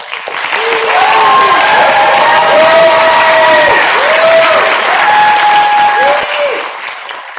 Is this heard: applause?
yes